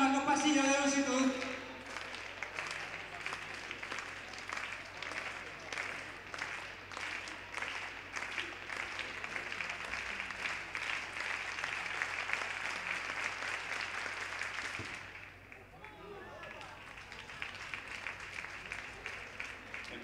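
Spectators in an indoor athletics arena clap rhythmically in unison for a long jumper on the runway, a sustained steady beat of crowd applause. It fades briefly and then resumes, with arena voices underneath.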